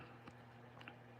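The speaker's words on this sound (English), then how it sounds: "What are you chewing on?" Quiet, close chewing with a few soft wet bites and squishy clicks, heard alone without talk.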